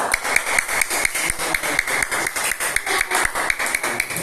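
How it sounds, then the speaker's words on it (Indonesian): Classroom audience clapping for a presenting student group, the rapid overlapping claps of a small crowd forming a steady, even patter from start to finish. "Silakan kasih tepuk tangan untuk kelompok 2."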